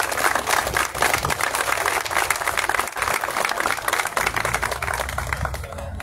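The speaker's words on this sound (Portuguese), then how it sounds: "eu gostaria de pedir uma salva de palmas ao Carlos Martins" A full room claps steadily for Carlos Martins Viana at a civic centenary commemoration in Matosinhos, with dense, even applause sustained throughout and no break.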